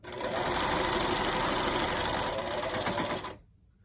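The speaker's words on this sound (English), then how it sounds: "I'm going to need to do a lock stitch again" A home sewing machine, an old and janky one, runs a quick rolled hem in one loud continuous burst of rapid stitching that stops abruptly near the end, leaving near silence.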